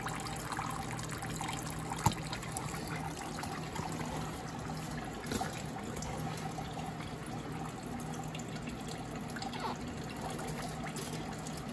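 Diesel fuel trickles steadily from a loosened bleeder nut on an Allis Chalmers 175 Perkins diesel fuel filter into a bucket, a faint continuous liquid dribble with a sharp click at one point and no talk.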